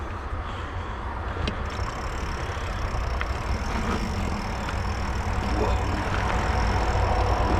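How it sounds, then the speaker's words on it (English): Heavy highway traffic carries from a distance to a mountain bike trail at Bendix Woods Park near New Carlisle, Indiana, forming a steady low rumble and wash of engines throughout, with faint trail noises on top. "Hear the highway right there, tons of traffic."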